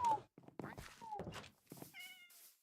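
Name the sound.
man imitating a cat meowing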